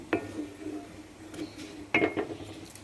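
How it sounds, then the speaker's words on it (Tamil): A spoon scrapes and clinks against a pan while banana leaf halwa is stirred, giving two sharp metallic knocks with softer scraping between them, close and fairly quiet. "கிண்டுவோம்"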